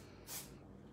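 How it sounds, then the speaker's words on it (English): A single short burst of aerosol hair color spray, a close, loud hiss lasting a fraction of a second before fading. "you're gonna spray this in short bursts right down the length of the hair"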